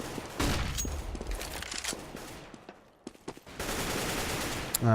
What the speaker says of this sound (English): AK Fire starts up over towards apps